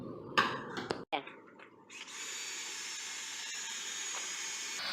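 Cordless power drill with a paddle mixer churning drywall stomp texture compound in a bucket, a steady close whirring hiss that starts after a few brief clatters and runs on evenly.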